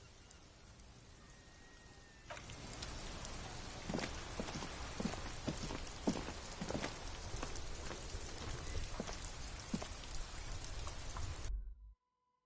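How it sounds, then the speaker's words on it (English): Steady rain falls in the video game Disco Elysium, starting softly, then swelling into a dense, even downpour with scattered heavier drops before cutting off abruptly at the end. "This rain will not let up anytime soon."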